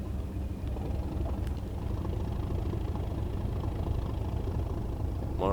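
Class 37 diesel locomotive hauling a passenger train out of Heath High Level in Cardiff, its engine a steady low rumbling drone under way, close and fairly loud throughout with no talking.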